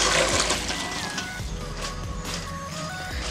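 Boiled cauliflower water being drained through a colander in a home kitchen, a brief gush of pouring water that settles into a steady trickling splash, with clinking of the pot.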